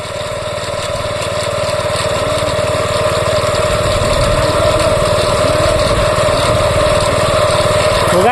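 A sprayer machine's small engine runs loud and close in a farm setting, holding a steady droning idle that grows slightly stronger over the stretch without any pauses.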